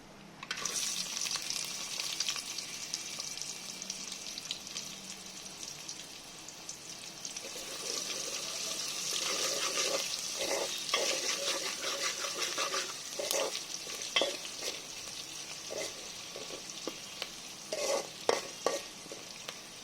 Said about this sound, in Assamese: এইখিনি মই অকণমান দেৰি ল' ফ্লেমতে ভাজি থাকিম